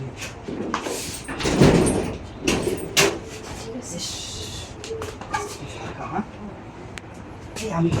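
A door is opened and shut, with a couple of clattering bangs, while people talk throughout.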